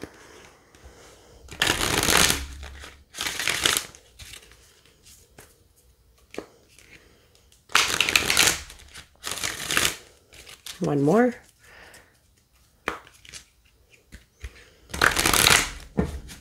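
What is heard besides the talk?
oracle card deck being shuffled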